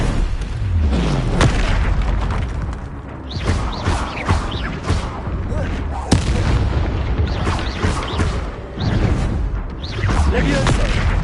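The Confringo explosion spell goes off in the video game Hogwarts Legacy during spell combat, with loud, repeated booming blasts and sharp cracks over a dense, rumbling background of fighting sounds.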